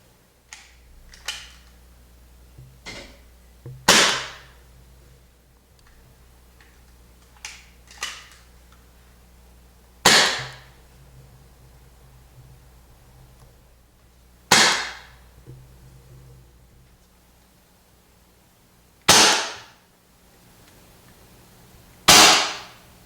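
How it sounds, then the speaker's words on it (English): A paintball gun fitted with a 3D-printed barrel extension fires .50 caliber paintballs outdoors in a slow series of sharp, loud pops a few seconds apart, some preceded by softer clicks, with quiet gaps between shots. "canister with 50 caliber paintballs. Holds about 10 rounds, and we'll fire them off."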